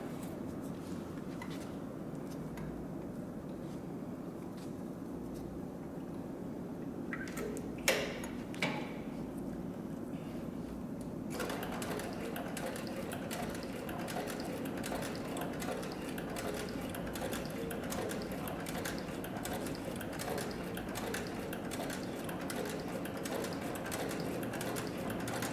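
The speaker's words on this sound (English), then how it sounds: "So the Cowboy CB3200 can also sew lighter weight materials" Cowboy CB3200 heavy-duty sewing machine stitching through three layers of roughly 3-ounce tooling leather, a steady, fast mechanical clatter running close and continuous, briefly easing mid-way before resuming at full rhythm; no voices.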